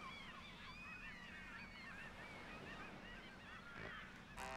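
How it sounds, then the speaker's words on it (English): Seagulls in the video game Mega Man Legends call repeatedly in squawking, honking bursts over a steady ocean-like ambient wash, faint and distant throughout. "Seagulls."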